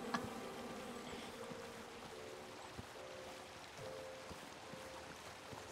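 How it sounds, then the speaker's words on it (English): A steady swarm of bees drones in the King's Quest video game, a continuous faint buzzing bed with a few soft ticks, no voices. "Oh, some bees."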